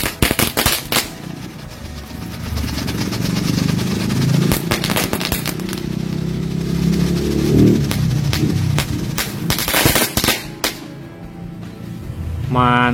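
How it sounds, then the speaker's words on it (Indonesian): Three blue Happy Flower firecrackers are set off together, giving a dense run of sharp crackling bursts and pops over a roaring fizz, with voices talking partway through. "ini kita nyalakan mercon Happy Flower warna biru, sekaligus 3 buah"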